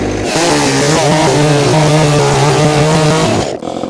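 A chainsaw with a slightly dulled chain cuts through sandy logs, its loud, steady engine drone running close for about three and a half seconds before it drops away.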